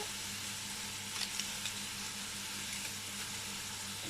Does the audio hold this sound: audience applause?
no